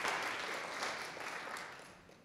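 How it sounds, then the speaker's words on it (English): An audience at a book talk breaks into brief applause for a farmer being introduced. The clapping is a dense, even patter that softens gradually. "yes, applause."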